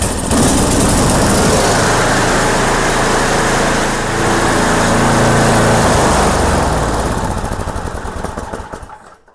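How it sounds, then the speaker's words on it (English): Small snow blower engine runs steadily after a fresh oil change, a loud, continuous buzzing drone close by that holds even throughout, dips briefly once, then fades as it winds down near the end. "you will want to restart your machine and let it run for 2 to 3 minutes"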